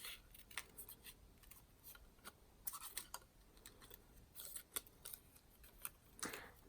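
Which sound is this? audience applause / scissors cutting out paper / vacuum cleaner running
scissors cutting out paper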